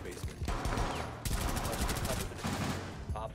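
Rapid gunfire bursts from Rainbow Six Siege gameplay, loud and dense, with clustered shots and a sustained fusillade under faint voices.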